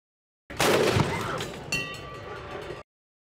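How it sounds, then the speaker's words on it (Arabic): A loud boom from a ceremonial Ramadan iftar cannon in Bahrain, followed by a second blast and a long rumbling echo that fades out. "وسط طلقات المدفع"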